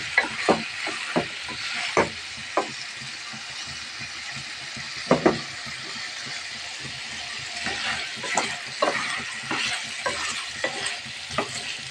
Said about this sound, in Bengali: এখন আমি কচুর ছড়াটাকে অ্যাড করে দেব। আবার এটাকে সুন্দর করে কষিয়ে নেব।